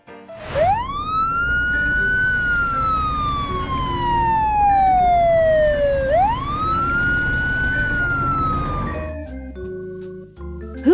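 A loud electronic siren wails continuously, sweeping up and down in long smooth glides, with a thin toy-like tone, then stops abruptly.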